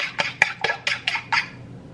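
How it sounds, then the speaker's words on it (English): Eggs, three of them, whisked in a bowl for chow mein fried noodles: a run of about seven quick, bright metallic clinks and scrapes of utensil against bowl, each separate and close, with no talking. "Just gonna whisk it, whisk it,"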